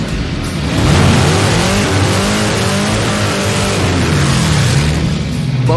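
Hot rod cars drag racing at a Roadkill Nights event, their engines roaring loud and close in a continuous, rising and shifting revving blast that fills the whole stretch.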